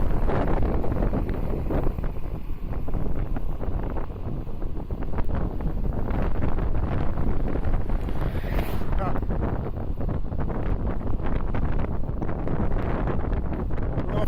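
Strong wind roars steadily across the microphone while riding an Eahora Tiger Max 3000+W electric scooter, a loud buffeting rush that covers the whole stretch with hardly a break.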